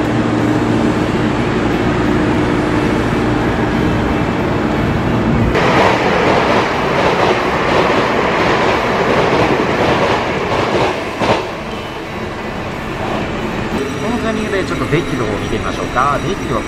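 Taiwan Railway EMU3000 express train running through mountain country, heard from inside the car: a loud steady rumble with rhythmic wheel clatter that swells midway, and a voice talks over it.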